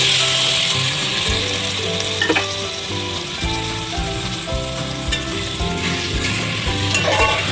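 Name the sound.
chicken sautéing in a pot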